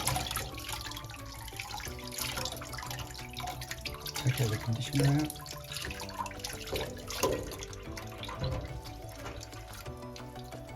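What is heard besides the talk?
tap water rinsing dolls' hair in a sink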